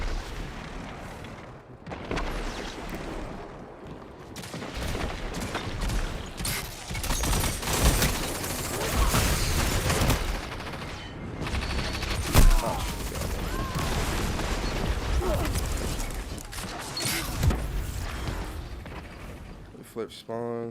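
An exotic hand cannon fires three-round bursts during an Iron Banner match in Destiny 2. Dense, booming bursts of gunfire and explosions pile up continuously, with voices talking over the battle throughout.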